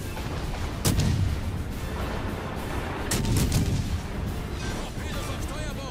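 Gunfire from enemy ships aimed at a destroyer in a naval video game: two heavy booming salvos around one and three seconds, over a steady rumble of engine and sea noise, with no speech.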